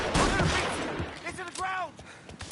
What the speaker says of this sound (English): They're shooting at people.